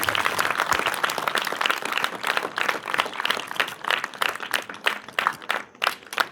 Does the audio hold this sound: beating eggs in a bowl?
no